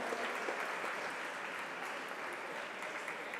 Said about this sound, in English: A round of applause for the audience.